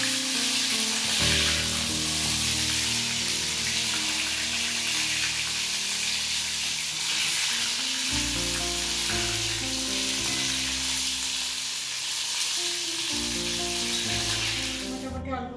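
Fish pan-frying in oil, a loud continuous close sizzle and crackle throughout, with a tonal hum in the background and no voices.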